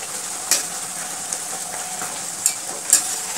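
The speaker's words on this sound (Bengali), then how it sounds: "এবার উল্টিয়ে দেবো, আর বাকি লুচিগুলোকে আমি এইভাবেই ভেজে নেব।" Spinach luchi puris deep-fry in hot oil with a bright, continuous hissing sizzle, broken by a few louder bubbling pops as the dough is pressed and turned.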